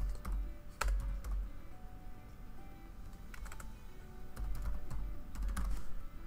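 Keystrokes on a computer keyboard as a password is entered into Hikvision Generation 2 intercom setup software, a fairly quiet run of uneven taps and clicks, with a couple of sharper key presses standing out against low room hum.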